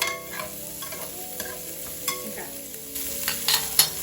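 Garlic and red onion sizzle and fry steadily in hot oil while a utensil stirs and scrapes the pan, with a few louder clicks and scrapes near the end; no talking.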